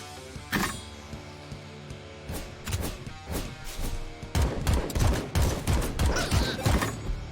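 AK gunfire in the roguelite bullet-hell game AK-xolotl: sharp, irregular shots, sparse at first, then dense rapid bursts toward the end.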